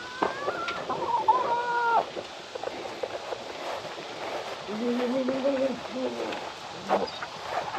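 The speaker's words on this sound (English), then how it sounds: "you can go feed the chickens for me?" Chickens cluck and call around a yard, several short squawks and drawn-out rising calls scattered over low background noise, fairly near.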